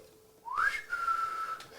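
A person whistles a single rising then held note, short and clear, in a quiet room, imitating a whistle.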